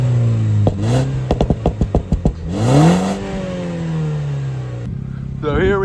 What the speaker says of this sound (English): show you just how much this thing pops when you rev it